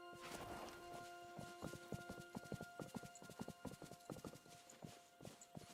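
Horse hooves clip-clop in the Disney Dreamlight Valley video game, a steady, quick run of crisp hoof knocks over a soft tonal game backdrop.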